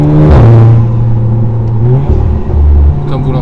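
Volkswagen Golf engine revving and accelerating from inside the car, its pitch rising and dropping through gear changes, loud and close with a brief lull near the end.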